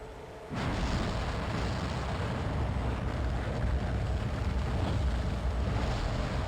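Fire roaring through air filtration tubes aboard a spaceship in Dead Space, a loud, steady broadband rush that surges in abruptly after a brief quieter start and holds constant to the end.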